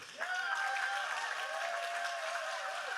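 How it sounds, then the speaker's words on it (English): Audience clapping for Aubrey and the team at a wellness event, a steady wash of many hands with whoops and cheering voices riding over it throughout. "Could we give Aubrey and the whole team a big clap?"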